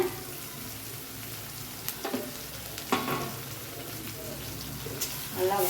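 Beetroot being stir-fried in a pan gives a steady sizzle, with occasional scrapes and clatters of the spoon, a few of them louder, at close range.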